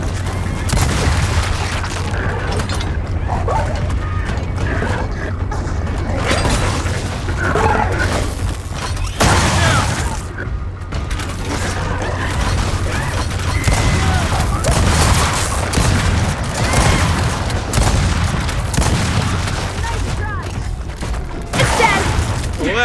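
Sustained battle gunfire from the Gears of War 4 video game, with dense overlapping bursts, booms and mechanical clatter running continuously at high volume, and shouted voices mixed in.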